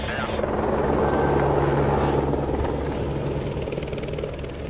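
A helicopter over snowy mountain ridges at Gulmarg, its rotor and engine giving a loud, steady drone that holds through the clip with slight swells, with voices faintly mixed in.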